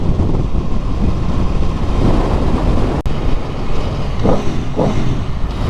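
Aprilia Tuono V4 2018 motorcycle getting throttle blips while riding, a loud continuous engine roar with wind rumble and a few brief revving swells near the end.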